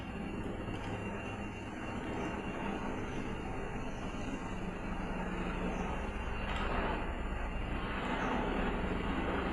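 A helicopter flying overhead in the open sky, a loud, steady engine and rotor roar that stays constant and swells slightly toward the end, with no talk.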